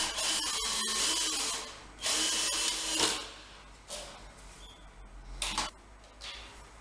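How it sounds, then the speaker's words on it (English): A power drill bores a hole into a wall to mount a wooden kitchen cooker shelf, sounding as close, loud bursts of whirring that stop and start, with short pauses between them. "This is the middle hole that I'm just drilling now."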